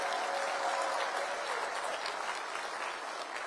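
Crowd at a political rally applauds police officers with a sustained, even wash of clapping, heard at some distance and fairly soft, with no voices standing out.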